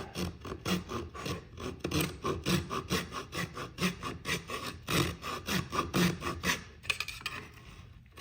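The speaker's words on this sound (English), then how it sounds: "So I'm using a little keyhole saw here." A small keyhole saw rasps through wood while cutting a mortise for a wedged through-tenon joint, with steady back-and-forth strokes about twice a second, close and fairly quiet, then a few irregular scrapes at the end.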